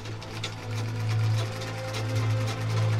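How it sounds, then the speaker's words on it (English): A sewing machine runs steadily with a continuous low motor hum and a faint mechanical whir that rises slightly, close and fairly loud, with no voices. "But the rhythm of the sewing machine is only one facet of her world."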